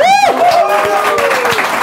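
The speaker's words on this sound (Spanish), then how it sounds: "quiero pedir un fuerte aplauso para este público, un aplauso" Applause from a live comedy show audience in Madrid, a dense wash of clapping lasting under two seconds, with a voice speaking over it at the start.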